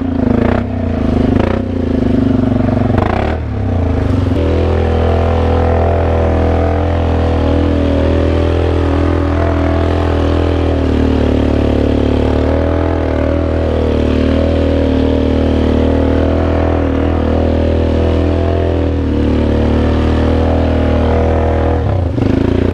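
Four-wheeler ATV engine driving through thick, sloppy mud, a loud continuous drone with clattering and splashing at the start, close and unbroken throughout.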